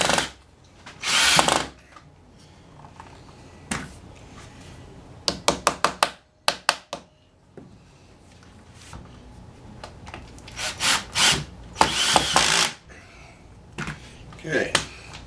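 A power drill drives screws into wood while a quilt rack is assembled, in short bursts of whirring and grinding separated by pauses, close up, with handling knocks and occasional talk in between.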